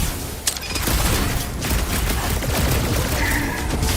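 Gunfire from snipers during a Guardians of the Galaxy video game battle, a dense continuous fusillade of shots and booms mixed with game effects, loud and steady throughout with no talk.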